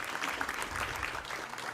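Continuous, fairly quiet applause from a church congregation, a dense wash of many hands clapping with no pauses.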